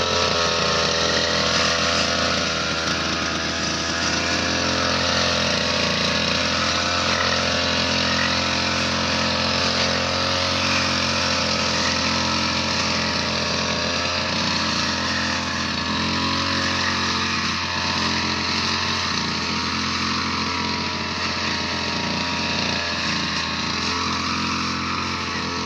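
A gasoline grass cutter, or brush cutter, runs continuously at a farm harvest site, its engine droning loud and close at a steady high pitch for the whole stretch with slight wavering in speed and no voices.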